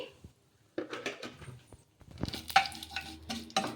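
Sesame seeds and cumin dry-roasted in a pan, heard as brief, quiet scraping stirs and soft crackles with short gaps between them.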